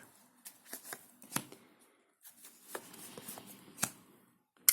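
Cards are shuffled quietly and close by, with soft riffles and slaps coming in uneven bursts and short pauses between them.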